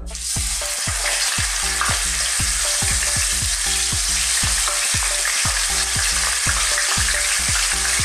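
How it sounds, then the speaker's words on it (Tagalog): Fish frying in hot oil in a pan, a loud continuous sizzle and crackle throughout, with a rhythmic beat of background music running underneath. "I-fry lang po natin ang isda"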